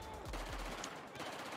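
Gunfire in the video game Battlefield 4: dense, continuous shooting and impacts filling the short stretch, with low booming sweeps near the start, loud and busy throughout.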